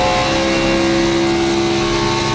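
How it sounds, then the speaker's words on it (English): Loud Chevy race car engine roaring steadily on an oval track during a racing series round, a sustained mid-pitched drone with a strong tonal hum and no break. "Big loud engine coming out the back of that Chevy"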